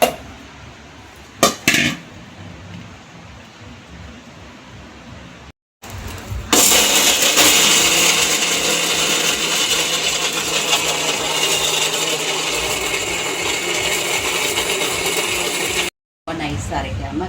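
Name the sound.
mixer grinder grinding sundakkai chutney ingredients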